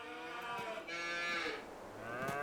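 Cattle in a farming simulator game give a few drawn-out, lowing moos, fairly close and alone, one call swelling into another over a couple of seconds.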